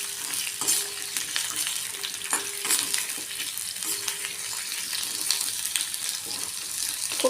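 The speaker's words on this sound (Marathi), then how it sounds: "आता हे छान आपण फ्राय करून घेऊ थोडे।" Medium-chopped onions frying in a pan for a cashew curry, a continuous close sizzle with scraping and stirring clicks throughout, and no voices.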